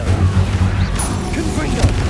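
An Incendio fire spell is cast in the Hogwarts Legacy video game, a loud whooshing, rumbling blast with a low booming undertone and crackling flourishes, while a voice calls out over it.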